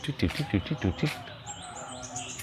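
A bird gives a rapid series of rising and falling whistled notes close by at a local birding patch, followed by fainter high chirps from other birds in the background.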